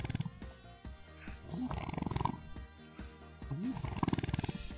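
A dog asleep and snoring, with rough, rumbling snorts rising and falling in a slow rhythm, close and fairly loud, over a faint tonal background.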